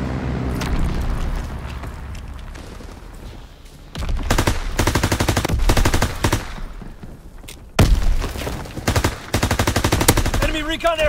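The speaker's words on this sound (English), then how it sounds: "Call for a strafing run." Strafing-run machine-gun fire in a WW2 video game: loud, rapid bursts of gunfire come in several long volleys with booming impacts, separated by short lulls of quieter battle noise.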